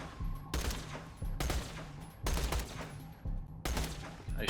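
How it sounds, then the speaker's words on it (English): Bursts of Tediore SMG gunfire in the shooter game Borderlands: The Pre-Sequel, four loud rapid-fire volleys, each about half a second to a second long, separated by short gaps. "if you just use it for this, it's a pretty good SMG"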